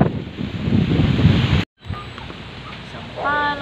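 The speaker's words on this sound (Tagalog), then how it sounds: "sobrang hangin." Strong typhoon wind from Typhoon Ulysses in Luzon, Philippines, roars and buffets the microphone, dropping out briefly before gusting on again, loud and close.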